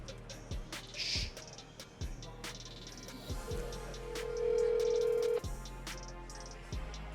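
A phone call placed on speaker in a quiet pitch competition hall, with a repeating ringback tone pulsing at regular intervals and a long steady electronic tone midway, a few clicks between.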